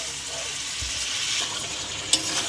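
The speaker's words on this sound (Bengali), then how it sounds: "চিকেনটা ভালো করে একটু কষে নিতে হবে।" Chicken pieces with yogurt sizzle and fry in a pan for chicken pulao, a steady hiss broken by a soft utensil knock and one sharp clink of a spoon against the pan near the end.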